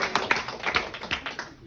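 A comedy show audience gives a brief burst of clapping, several quick sharp claps scattered over a moment and fading, close and without talk.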